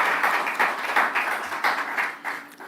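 An audience at a bank branch commissioning ceremony claps steadily in a rhythmic, pulsing wave of applause, fairly close and loud, with no talk over it.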